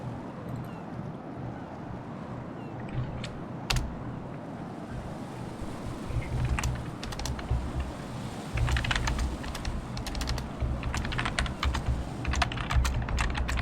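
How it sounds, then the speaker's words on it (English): Computer keyboard typing comes through close and clear, with irregular bursts of sharp key clicks over a steady low background hum. "I think that's really loud in the mic now, by the way. Me typing anything."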